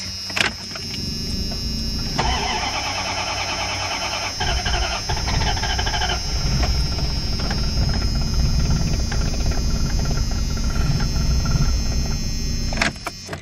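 A Dodge van engine is cranked with a whirring starter for several seconds, then catches and runs with a steady low idle, close by.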